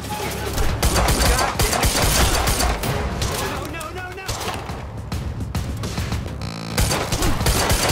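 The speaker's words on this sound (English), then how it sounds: "Stop fucking shooting at us!" Dense gunfire in the action game Quantum Break, with rapid overlapping shots and bursts throughout a loud firefight and shouting voices mixed in over the shooting.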